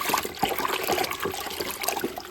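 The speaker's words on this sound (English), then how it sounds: "I'm gonna go ahead and dump that in my bucket" Rinseless car wash solution, about 1.5 ounces from a small measuring cup, splashes and trickles into a bucket of water in a short, steady pour with no talking.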